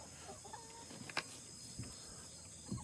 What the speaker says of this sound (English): There's a couple roosters. There's a couple hens.